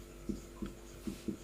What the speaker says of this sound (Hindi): तो इसका डेफिनेशन हम लोग लिख लें।